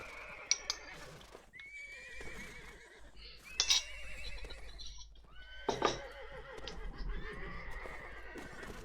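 Horses neigh and whinny in the multiplayer castle-siege battle of the video game Mount & Blade Warband, with several shrill calls spread over the stretch, faint hoof clip-clop and battle noise beneath, and a low constant hum throughout.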